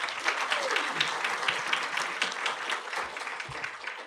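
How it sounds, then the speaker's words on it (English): A law symposium panel audience gives a full round of applause, a dense, even wash of many hands clapping at close range that holds steady for about four seconds. "If we could give them another round of applause"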